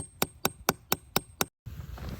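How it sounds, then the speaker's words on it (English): A small hammer taps a metal maple sap spout into a tree trunk six times in a steady rhythm, each strike sharp and close, followed by a brief silence and soft outdoor background. "take my little handy hammer and tap it in."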